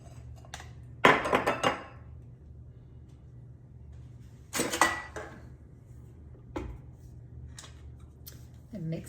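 Walnut date bread batter is stirred in a bowl: a few separate bursts of scraping and clinking of utensil against bowl, with quiet gaps between them.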